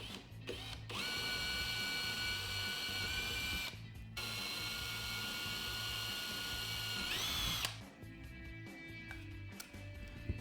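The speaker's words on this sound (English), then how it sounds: "We're going to drill pilot holes as a guide for our hole saw." A power drill bores pilot holes into a plywood snare drum shell, two long whining runs with a short gap between them and a brief burst beforehand, then the motor winds down into quieter handling noises.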